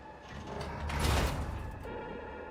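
A door slides open in the Warhammer 40,000: Rogue Trader video game, a single mechanical whoosh swelling to a peak midway and then easing off, with a steady low hum throughout and no talking.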